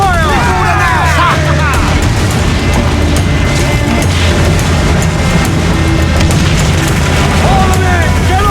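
Ship cannons fire during a naval battle in the video game Assassin's Creed IV Black Flag: loud booms under a constant roar of wind and sea, with shouted crew voices throughout.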